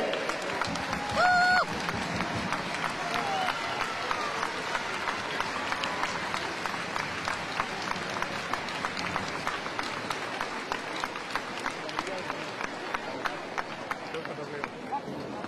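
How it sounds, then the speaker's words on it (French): An audience applauds the candidates at the election of the Queen of Arles, a sustained, somewhat distant patter of clapping with a voice speaking over it throughout. "Applaudissez-les."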